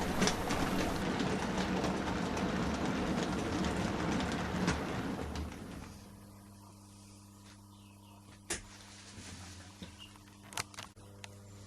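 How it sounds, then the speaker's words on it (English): A model railway parcels train hauled by an E4 radial tank engine departs along the coast, its steady rumbling mechanical running loud at first, then fading out by mid-clip, leaving a faint hum and a few clicks. "A parcels working from 3 bridges arrives behind an E4 radial tank and departs along the coast"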